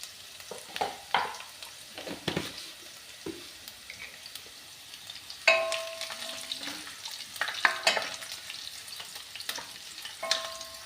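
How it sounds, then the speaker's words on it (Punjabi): Garlic, cumin and fennel seeds frying in a hot pan for a green chilli chutney, with crackling sizzle and scattered pops, spoon stirs and scrapes, a few clinks near the end. "ਪਹਿਲਾਂ ਆਪਾਂ ਜੀ ਵਿੱਚ ਐਡ ਕਰਤਾ ਲਸਣ ਥੋੜਾ ਜਿਹਾ ਪਾ ਦਾਂਗੇ ਜੀਰਾ ਥੋੜੀ ਜਿਹੀ ਆਪਾਂ ਜੀ ਇਹਦੇ ਵਿੱਚ ਸੌਂਫ ਐਡ ਕਰ ਦਾਂਗੇ"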